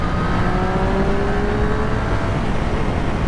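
A Triumph Street Triple RS motorcycle accelerating on the road, its engine a loud, steady rising whine close to the rider, with continuous wind and road roar underneath.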